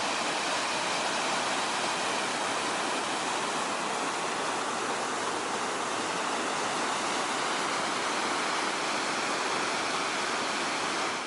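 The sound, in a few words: waterfall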